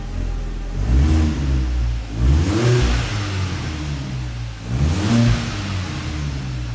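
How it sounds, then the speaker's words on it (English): A B6 Audi A4 engine revs three times in short bursts, rising and falling in pitch over a steady idle, close and loud. "I need a couple revs. Just a little light one"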